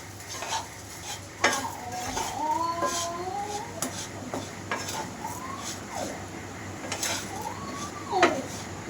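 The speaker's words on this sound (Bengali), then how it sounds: "তো এখন ভালো করে আমি মিশিয়ে নিব।" Fried flattened rice (chira) being tossed and mixed in a pan with scraps of omelette: continuous scraping and light clinking of a spatula against metal, with faint sizzling and some high warbling sounds in the background.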